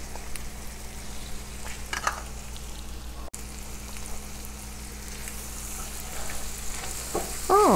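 Seasonings and meat for Louisiana jambalaya sizzle steadily in a pot, with occasional stirring scrapes and one sharp click, and a brief high squeal near the end.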